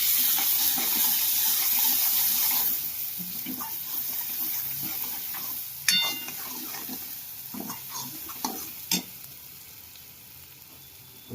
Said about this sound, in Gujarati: થોડુંક પાણી નાખી દે, હું મરચું બરે નહીં એટલે.